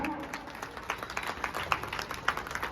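Audience at a rural journalists' felicitation gathering in Harigarh clapping steadily, a dense patter of many hands filling the room at moderate volume, with a few sharper claps standing out.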